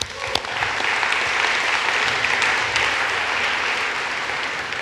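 A conference audience at CSSconf EU 2015 claps for the lighting team, a dense, even burst of applause that holds steady throughout, filling the hall with no talk over it.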